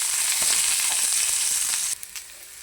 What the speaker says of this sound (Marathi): कांदा भाजण्यासाठी थोडेसे तेल टाकून घेऊया. कांदा पटकन भाजला जातो.